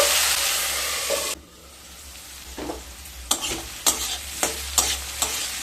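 Potatoes and flat beans being stirred in a pan, with a scraping sweep followed by several sharp, evenly spaced clinks of a spatula against the metal over a low background hiss.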